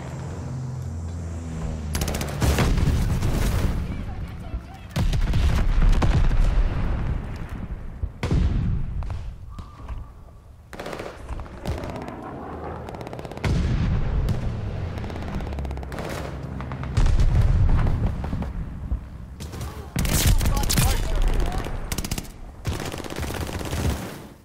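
Sustained MG42 machine gun fire in a Call of Duty: Vanguard multiplayer match, loud bursts of rapid shots repeating in several long volleys separated by short gaps, with thuds and game effects between.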